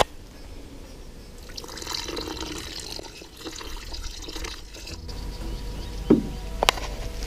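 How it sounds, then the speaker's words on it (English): Hydrochloric acid and 3% hydrogen peroxide fizz over a batch of RAM sticks in a container, a steady close hiss of bubbling with a couple of sharp clinks near the end. "Oh yes, fizzing away."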